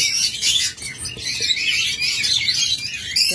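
Two olive yellow lovebirds in breeding condition give quick, shrill, overlapping chirps at close range, nearly without a break.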